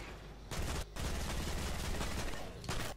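Dense, loud video-game gunfire in rapid bursts fills the moment, an almost continuous volley with two brief gaps near the start and a short pause before a final burst.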